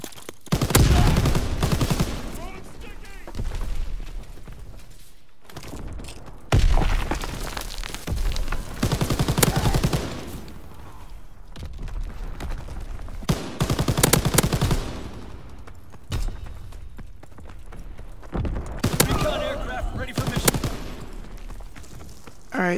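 Bursts of MG42 machine gun fire from Call of Duty WWII, long rattling volleys separated by short pauses, loud and close, with scattered gunshots and occasional voices in between.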